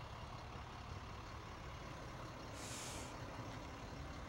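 A fire department tanker truck that carries 1,500 gallons of water rolls past in a Canada Day parade in Port Alberni, with a steady faint engine rumble and a brief hiss of air brakes partway through.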